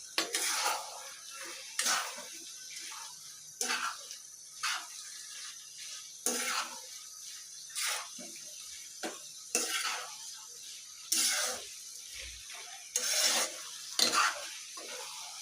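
A pan of Chinese-style mixed vegetables with ghee being stirred, as a series of about ten distinct scraping strokes of a spatula against metal, spaced by brief quiet gaps, with a faint sizzle underneath.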